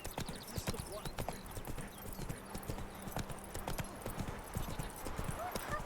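Horse hooves clip-clop in a steady rhythm while riding along a road in The Witcher 3, with game voices talking over the hoofbeats.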